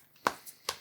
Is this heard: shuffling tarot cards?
yes